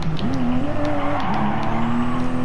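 A Toyota GR Supra RZ racing at Mount Panorama in a video game, its engine droning loud and steady, pitch rising and dipping through gear changes, with a faint tire squeal over the continuous roar.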